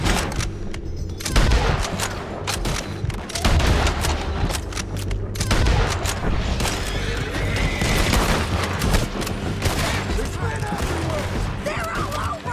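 Riders in Red Dead Redemption 2 open fire in a dense, continuous gunfight, rapid overlapping shots and booms over galloping horses and a whinny, loud and close throughout, with shouted voices mixed in.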